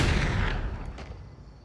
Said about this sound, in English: the one girl ended up pulling out the gun and shooting her